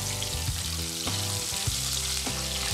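Oysters frying in a pan sizzle loudly and steadily, with frequent sharp pops and crackles close by and no talk.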